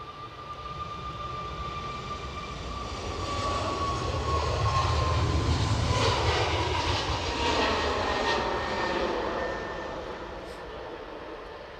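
An airliner departs Edinburgh Airport bound for Copenhagen, its engine roar swelling steadily to a loud, sustained peak and then easing slightly, with a thin whine over the broad rumble and no voices.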